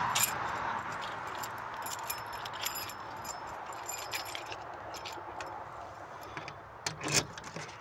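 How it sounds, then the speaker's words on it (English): Keys to a 2024 Forest River No Boundaries RV Suite RVS1 unit jangle and clink near the mic in small bursts over a steady outdoor background, peaking in a sharp rattle near the end. "So that means I couldn't use my master keys. I had to get the actual keys to the unit. So here's the keys."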